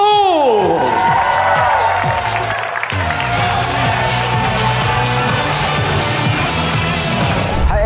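An audience at the X Factor Indonesia live gala show cheers and applauds a singer, a dense, loud wash of crowd noise with whoops throughout, under a swelling musical sting.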